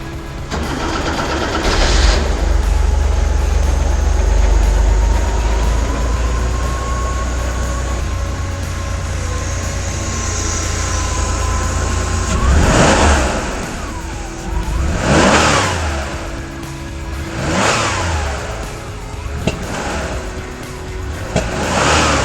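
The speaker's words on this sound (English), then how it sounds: "show you the last time that the engine is going to be started before the rebuild" A 1989 Porsche 911 Targa engine, due for a rebuild, cranks and catches, then idles steadily with a rough, throaty drone, followed by several sharp revs rising and falling.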